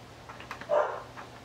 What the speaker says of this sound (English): You hear the dog barking in the back?